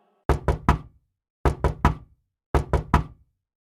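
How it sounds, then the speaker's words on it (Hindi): Three sets of three sharp knocks on a gate, evenly spaced with pauses between each set, loud and close with nothing else audible. "उसे गेट बजाने की आवाज आती है।"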